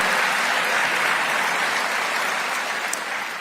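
An audience applauds a speech by Atlanta's mayor: a dense, steady burst of clapping from a large crowd that stays loud for a few seconds, then eases slightly.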